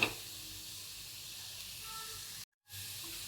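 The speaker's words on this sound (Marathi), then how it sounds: "आता मी टॅमॅटो चांगलं भाजून घेते" Tomatoes sizzle as they roast in a pan, giving a steady close hiss that holds evenly before a brief drop to silence, then resumes.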